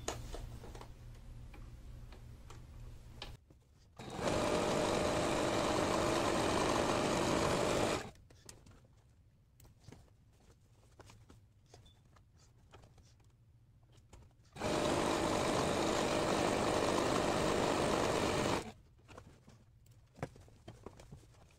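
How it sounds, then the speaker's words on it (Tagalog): A sewing machine stitches pocket seams on a garment in two loud, continuous bursts of rapid needle clatter, each lasting about four seconds, separated by quieter pauses with faint handling sounds. "So, tahiin natin."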